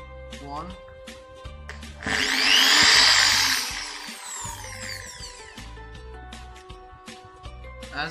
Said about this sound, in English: Now let's drill through a cardboard box.